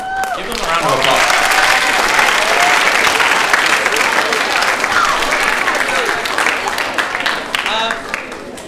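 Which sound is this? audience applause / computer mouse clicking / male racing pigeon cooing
audience applause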